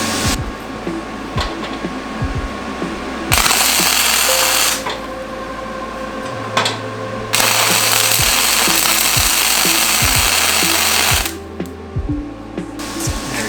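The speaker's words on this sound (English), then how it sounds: "just weld it to your table" Bursts of loud, crackling buzz from welding a metal bar to a steel work table come in several sustained runs of a few seconds each, separated by quieter gaps with clanks and handling noise.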